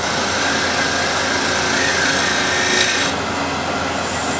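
A hand tool shaves wood into shavings with a steady, close, continuous rasping scrape that holds evenly for about three seconds, then softens into a quieter tail.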